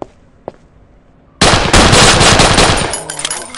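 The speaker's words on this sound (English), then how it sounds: "I'm just gonna keep using the pistol because shotguns are not so good long range." Pistol gunfire in the video game Sierra 7: one short shot early, then after a pause a loud rapid burst of shots and echoing blasts.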